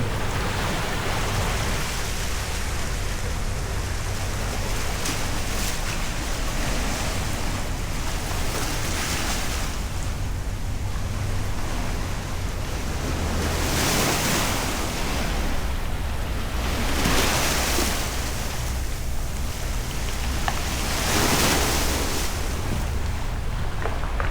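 Water laps and churns below a riverside park at Gantry Plaza State Park in Queens, New York, a steady broadband wash mixed with wind buffeting on the microphone, with periodic swells of louder surges.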